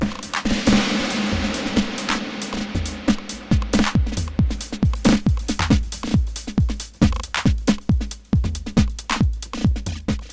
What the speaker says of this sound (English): all created with my SR 909, some of which sound like this.